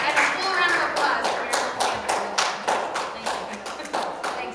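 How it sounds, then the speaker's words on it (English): Congregation at an Earth Day Shabbat service giving a round of applause, a close patter of claps that thins and breaks into scattered individual claps, with some talking over it. "a full round of applause"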